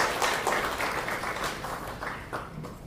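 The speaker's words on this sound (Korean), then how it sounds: "박수로 맞겠습니다." Audience applause welcoming a speaker at a symposium marking 140 years of Korean Christianity: a dense, steady patter of many hands clapping that fills the hall and eases off slightly toward the end, with no speech.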